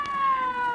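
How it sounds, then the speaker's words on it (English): Ambulance siren in an old radio comedy street scene, a steady wailing tone with a warbling pitch holding close and loud on its own with no voices. "Here comes the ambulance."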